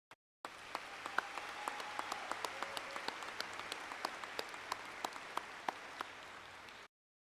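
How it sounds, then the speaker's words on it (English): Sustained audience applause at a university spring commencement, a dense wash of many hands clapping steadily with a few louder individual claps standing out, lasting several seconds before cutting off. "Please join me in giving them a round of applause."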